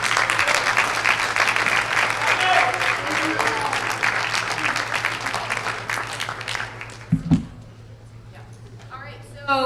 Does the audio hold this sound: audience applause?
yes